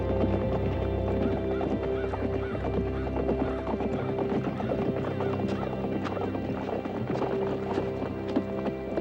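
Horses gallop in a dense, continuous clatter of hooves, with loud neighing and whinnying over the top, close and chaotic throughout.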